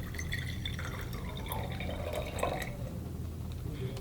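Boiled water poured into a mason jar for rock candy, a soft steady trickle and drip running the whole time at low level, with no one talking.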